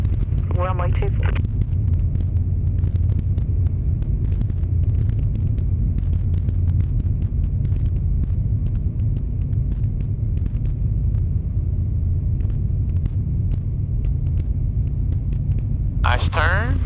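Light aircraft engine idling and rumbling steadily while taxiing to the runway, a constant low drone filling the whole stretch with brief higher radio or voice bursts at the start and end.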